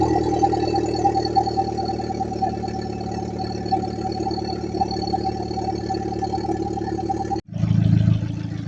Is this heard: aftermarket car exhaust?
yes